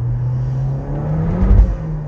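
A SEAT Leon Cupra engine fitted with a Revo induction kit, on wet roads, makes a loud, close, steady drone that swells slightly as it spins up toward the end.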